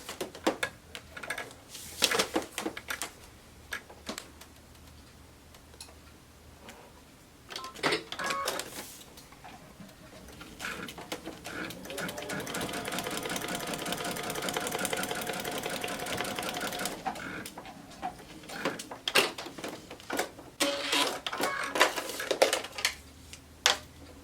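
A sewing machine stitching a seam in a Courthouse Step quilt block runs in one steady, rapid burst mid-clip, with scattered clicks, taps and fabric handling before and after.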